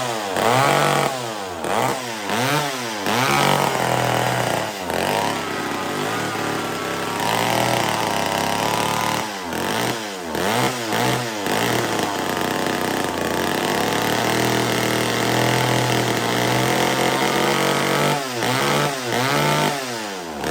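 A McCulloch Mac 120 chainsaw that runs poorly despite carburetor adjustment keeps running unevenly, its loud engine note surging and sagging repeatedly over about twenty seconds with no voices.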